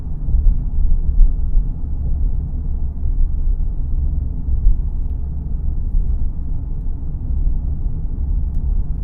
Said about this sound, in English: You can definitely hear the bigger tires on the road here.